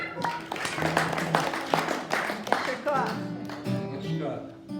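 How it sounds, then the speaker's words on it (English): Members of a synagogue congregation at a Shabbat ordination service clap briefly for a rabbi, a scattered, moderate patter of hands, with voices talking over and after it. "Let's have a hand for Rabbi Sugarman."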